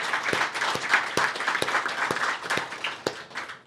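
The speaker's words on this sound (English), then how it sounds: "Please give a round of applause for everyone." Indoor conference audience gives a panel a steady round of applause, with dense, even clapping close by and a few sharper individual claps standing out.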